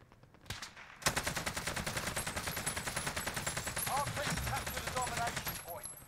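Sustained automatic fire from an AK-47 in Call of Duty: Black Ops Cold War, a rapid, steady stream of loud shots running for about five seconds with no talk over it.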